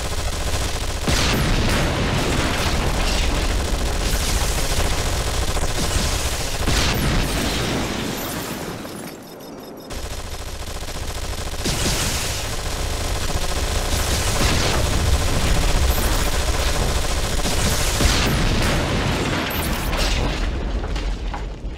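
Squad gunfire in the video game Anomaly 2 keeps up a dense, continuous barrage of shots and booming impacts, loud throughout, with a brief lull midway before the firing resumes.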